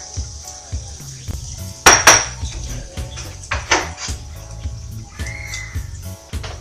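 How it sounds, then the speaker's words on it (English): Chopped vegetables for gluten-free crab cakes tossed into a bowl: a string of close clinks, taps and light clatters against the dish, irregular and soft, with a faint background hum. "Toss my other veggies in there."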